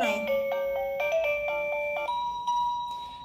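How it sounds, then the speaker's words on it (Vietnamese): A Kawasan I618 wireless motion sensor doorbell gives short electronic tones, a series of clear beeps in quick succession at close range, ringing alone without talk. "Thì mình nghe hai tiếng tin tin."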